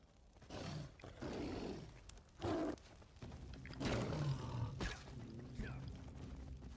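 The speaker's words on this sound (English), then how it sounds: "Yeah, tiger." A tiger in the prehistoric video game Far Cry Primal lets out deep, rumbling roars in a few separate bursts, fairly quiet and distant, with no talk over them.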